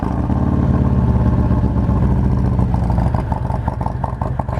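Harley-Davidson Milwaukee-Eight 114 V-twin with an S&S 475 cam fired up for its first start, idling loud and close with a steady lumpy rumble that shifts to a choppier, pulsing beat near the end.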